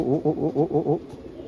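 A male racing pigeon courting a hen coos close by in a rapid rhythmic series of about five throaty pulses, then falls quiet.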